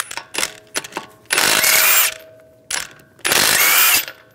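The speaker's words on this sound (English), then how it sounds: "We're going to remove the wheel, use a 19mm socket, take the lug nuts off." A ratchet with a 19mm socket works the wheel lug nuts off a 2013-2016 Dodge Dart: short ratcheting clicks, then two longer loud bursts of rapid clatter close by, with no voices.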